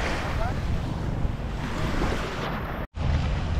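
Steady broadband wash of Gulf of Mexico surf close by, with wind buffeting the microphone; the rush briefly cuts out near the end before resuming.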